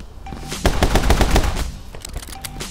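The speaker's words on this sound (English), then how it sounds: "I'm gonna keep shooting my way through here" Rapid bursts of automatic gunfire from shooting through a building in a video game, a dense rattling volley lasting about a second and trailing into scattered shots and game ambience.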